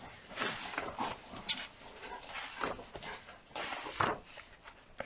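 A pet dog whimpers and whines in short, high bursts at close range, fairly quiet, with small yelps scattered across the moment and no talk over it.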